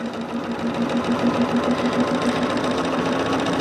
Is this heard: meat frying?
no